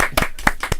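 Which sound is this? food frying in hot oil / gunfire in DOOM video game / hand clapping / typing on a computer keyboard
hand clapping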